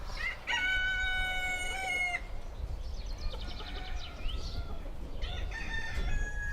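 Roosters crow repeatedly on a poultry farm raising cocks for fly-tying feathers, with hens clucking; several loud, near crows stand over a steady barnyard din.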